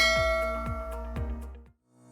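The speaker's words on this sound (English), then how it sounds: "hit that notification bell so you never miss a safety lesson" A notification bell sound effect rings three quick metallic dings in a steady rhythm, each with a bright shimmering tail, then fades out with a short ring-off and no talk.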